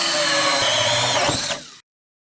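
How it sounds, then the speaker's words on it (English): A power drill whines steadily at close range as a hole saw cuts through plywood for a 1991 Bayliner boat floor, then spins down and stops. "whenever you're running a hole saw through a piece of plywood"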